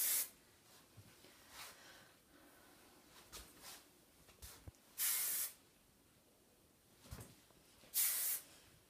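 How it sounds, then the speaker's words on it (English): Several short bursts of hair finishing spray from an aerosol can hiss out, two of them longer and stronger, with quiet rustling between. "now we're just going to give her a little bit of finishing spray."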